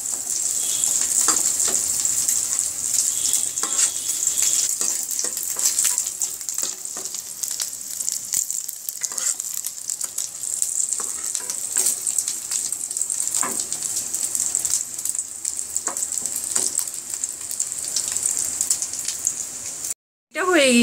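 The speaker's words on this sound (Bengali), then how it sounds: "শুটকিটা মুচমুচে হয়ে আসলে নামিয়ে ফেলবো।" Dried fish (shutki) fries in a pan with a steady, bright sizzle and crackle that runs almost unbroken for about twenty seconds, then cuts off briefly near the end.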